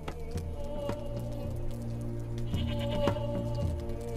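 Goats bleating in a series of short repeated calls close by, with steady low background noise and a few faint tapping drops; no talking.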